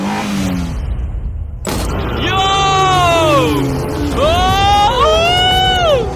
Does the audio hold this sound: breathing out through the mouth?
no